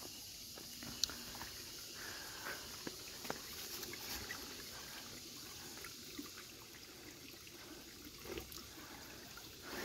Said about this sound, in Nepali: अहिले चाहिँ हामी जरुवा पानीमा आयो